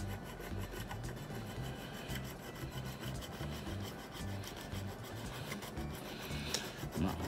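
Hand saw cutting through a plastic Gundam model kit part. It makes a steady, close, faint back-and-forth rasping with repeated strokes and no talk.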